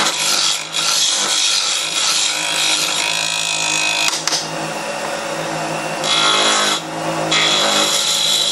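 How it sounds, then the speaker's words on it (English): Wood turned on a lathe while a finial is shaped for a holiday ornament: a loud, continuous scraping and hissing of the cutting tool against spinning wood, with brief easing-off moments, close up and without talk. "I'm going to round it out and turn a nice little finial"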